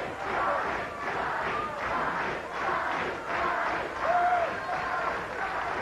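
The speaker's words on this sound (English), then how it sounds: "A look at our great crowd on hand here at the Disney MGM Studios Worldwide Arena." Wrestling arena crowd at Disney MGM Studios, a steady roar of cheering and shouting fans in waves, with announcer-style talk mixed in over the din.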